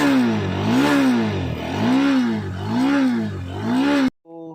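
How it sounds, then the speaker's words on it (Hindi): Bajaj Dominar 400 motorcycle exhaust on the move, a loud steady engine note rising and falling through several rev swells before cutting off abruptly, followed by a brief faint tail. "साउंड नोट सुन सकते हो इस एग्जॉस्ट का"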